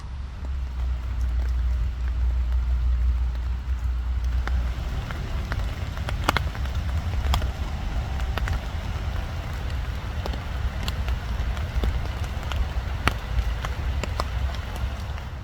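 Evening rain falls on an urban stealth campsite behind an REI and Costco, a constant patter with scattered sharper drop taps and a low rumble beneath, fairly close and unbroken by talk.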